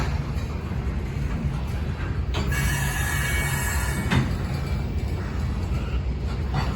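The end of a local freight train with a CPKC unit as rear DPU rolls past with a steady, heavy rumble and a brief burst of metallic hiss and squeal partway through, fairly close.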